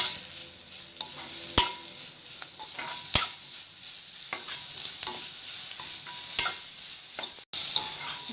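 Grated carrot stirred and sautéed in a hot pan for a vegetable tortilla filling, with a steady close sizzle broken by sharp scraping clicks of the spoon against the pan at irregular intervals.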